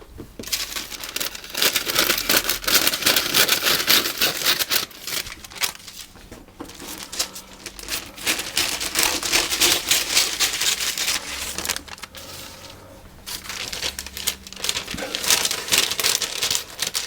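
Parchment paper being trimmed on a baking tray for braided Italian bread, with steady crinkling, rustling and snipping textures running close and continuous, dipping briefly midway before resuming.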